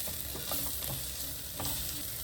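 Tomatoes go into a hot frying pan and sizzle steadily, with stirring scrapes and light clicks of a utensil over the constant crackle, close and fairly quiet.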